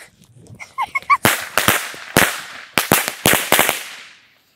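A string of fireworks lit all at once goes off in about nine sharp, loud, cracking bangs, some in quick pairs and clusters, each with a short crackling tail, after a few faint high squeaks at the start.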